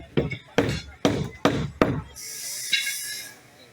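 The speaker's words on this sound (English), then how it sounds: "So I'm sneaking some nails in here on the tip by the vise there" A hammer drives nails into a heavy piece of wood held near a vise, with five sharp, evenly spaced blows up close followed by a soft hiss.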